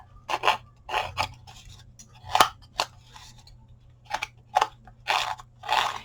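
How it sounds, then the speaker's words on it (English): A distressing tool scrapes along the edges of index cards in a crafting session, making a series of short, crisp rasping strokes in an irregular rhythm over a low steady hum. "So I'm going to go ahead and use the distressing tool on this, just because."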